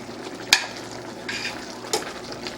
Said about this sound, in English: We'll just let it simmer a little bit.